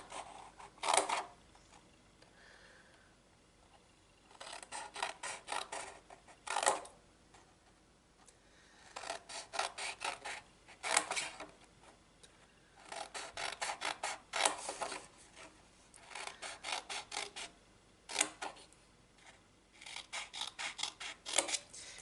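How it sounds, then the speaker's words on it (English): Scissors cutting up score lines on a cardboard box, in repeated bursts of crisp crunching snips separated by short pauses, close and clear, with no talk. "Then you're going to cut off, you're going to cut up these score lines."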